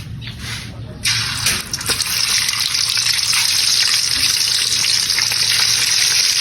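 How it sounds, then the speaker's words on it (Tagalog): Mudfish (dalag) drops into hot cooking oil with a sudden burst, then fries with a loud, steady crackling sizzle that continues close up without pause. "So mainit na rin ang ating mantika. Piprito muna natin yan."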